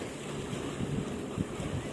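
Steady seaside wind at the Khao Phra Tamnak viewpoint in Chonburi rushing across the microphone, with a low rumble of surf and water underneath, continuous and moderately loud, no voices.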